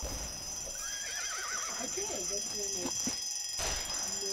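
A horse in a Wild West video game lets out a wavering whinny, followed by a few short snorts, over a constant high alarm-like tone and game ambience, with voices in the background.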